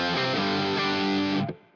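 A guitar chord rings out thick and fuzzy through an Analogman King of Tone overdrive pedal, sustained loudly, then cut off abruptly.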